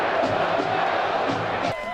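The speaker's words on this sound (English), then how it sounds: "Right after halftime, that expletive chant could be heard again." A crowd chanting in a college football stadium during an Ohio State home game, a loud, dense roar of massed voices with rhythmic swells, heard from within the stands.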